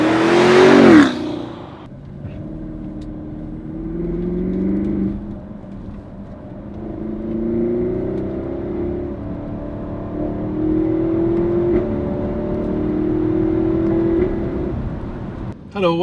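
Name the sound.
BMW X7 M50i 4.4L V8 engine driving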